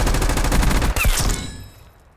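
Dense automatic gunfire in Call of Duty bursts loud and close, rapid shots rattling for about a second before a sharp final crack and a fading echoing tail.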